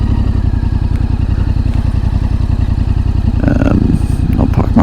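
A Yamaha T7 adventure motorcycle circles a snowy picnic area, its engine thrumming steadily and close by with a pulsing low-end beat and a brief rise in revs near the end.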